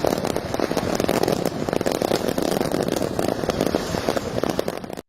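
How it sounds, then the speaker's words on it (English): Dense, continuous crackling and popping from a large fireworks display seen from a dark highway, loud and steady throughout with no talk. "Probably the most spectacular fireworks show we'll ever see in our lives."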